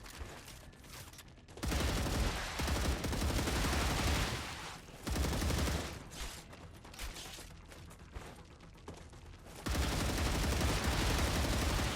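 Dense sci-fi gunfire in StarRupture, with rapid automatic bursts in several long loud stretches broken by short pauses and no talk over it.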